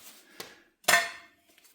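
A few sharp metal blows from a hammer on a dolly against a car's cowl panel during repair on an HQ GTS coupe, one light tap followed by a louder ringing strike, close and alone.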